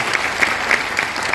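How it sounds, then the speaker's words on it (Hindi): Audience clapping at a Vestige seminar, a fairly loud, close burst of applause with a steady rhythmic beat running through it. "ताली बजाओ माता जी के लिए"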